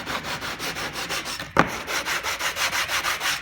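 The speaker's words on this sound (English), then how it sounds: "just take a sanding block, which I'll probably send you one, and just sand that off" Cabinet wood is rubbed with a sanding block in quick, even back-and-forth strokes, close and fairly quiet, with a brief louder knock partway through.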